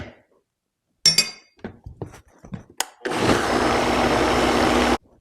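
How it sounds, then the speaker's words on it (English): Blender whirring through a blueberry cherry microgreen smoothie with milk, a loud steady roar for about two seconds after a few clinks and knocks of stirring and setup. "Give it a quick stir and then blend it in."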